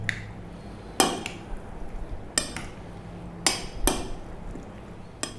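Beetroot and potato salad with chopped parsley being mixed in a bowl, with a few sharp clinks of a utensil against the dish spaced a second or so apart over quiet background.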